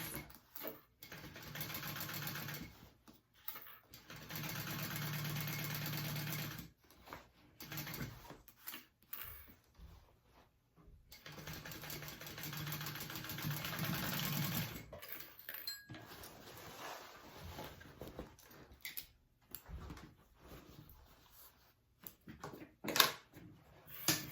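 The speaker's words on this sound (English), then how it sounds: "I'm just basting long stitches, 1/8 of an inch along the side. Just basting that pocket into place." A sewing machine bastes long stitches along the side of a tote bag pocket, running in several sustained bursts broken by brief stops, close and clear, with no speech.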